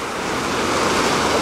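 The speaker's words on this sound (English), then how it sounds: "Oh my god, the waves. The current's so strong." Strong high-tide ocean waves on a Hawaiian shore roar in a steady, loud wash of surf, with wind buffeting the microphone throughout.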